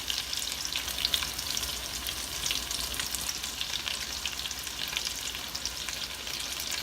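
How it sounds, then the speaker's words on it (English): Potato pancakes sizzle in a frying pan, a dense, even crackling hiss that carries on steadily and close by, with no one speaking. "So we'll fry these up and see how they work."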